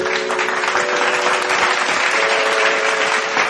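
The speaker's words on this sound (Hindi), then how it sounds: "जोरदार करताली।" Steady, loud applause from an audience greeting a singer on stage fills the whole stretch, a dense, even roar of clapping with a faint sustained tone humming underneath.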